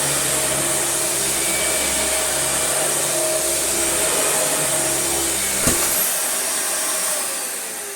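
A Dyson DC40 upright vacuum cleaner runs on carpet with a loud, steady motor whine and airflow roar, a brief knock near the end, then the sound eases slightly.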